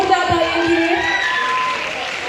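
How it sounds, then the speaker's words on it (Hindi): Applause and cheering at a Patna event, hands clapping under a loud, tonal voice and whoops from the crowd, with talk and melodic sounds layered on top through the short stretch. "एक बार जोरदार तालियां"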